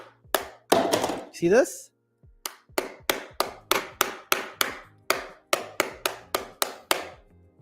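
A hammer strikes a hardware wallet over and over: a few heavy blows at first, then a fast, steady run of sharp, loud knocks close by. Someone speaks briefly at the start.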